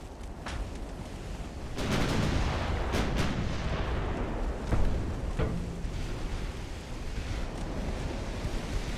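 Naval gunfire in the warship battle game Ultimate Admiral: Dreadnoughts, Black Sea Fleet 1941: several heavy booming salvos over a steady sea-and-wind wash, loudest around the middle, with no talking.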